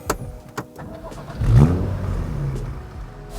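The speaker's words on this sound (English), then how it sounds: "In fact, let's start the engine up." A BMW M135i six-cylinder engine starts up after a few clicks, catching with a loud burst of revs that then settles into a steady idle, heard close by.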